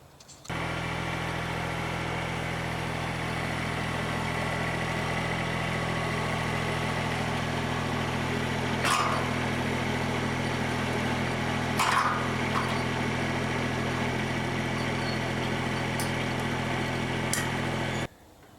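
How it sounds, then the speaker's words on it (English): A tractor engine idles steadily with a low, even rumble throughout, with a couple of faint clicks along the way and no talking. "Now simply back your tractor up to the EcoMixer 84 and hook it up and be ready to go."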